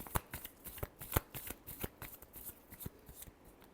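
Tarot cards are shuffled by hand in a quick, close, soft run of flicking riffles, with irregular sharp snaps over a quiet background.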